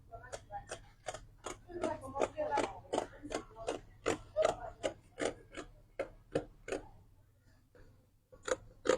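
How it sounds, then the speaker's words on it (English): Scissors snip repeatedly through corset fabric during freehand cutting for sewing, a steady series of about twenty close, crisp cuts with short pauses, alone without talk. "So I'm going to go ahead now and cut what we have here. I'm going to cut it out."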